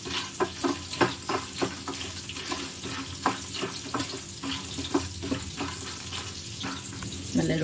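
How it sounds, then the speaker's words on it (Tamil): Dried turkey berries roasting in oil in a pan over a low flame, a soft continuous sizzle broken by repeated light scraping and stirring taps, close and without voices. "இந்த எண்ணெயில் நம்ம நல்லா இது ரோஸ்ட் பண்ணி எடுத்துக்கலாம்"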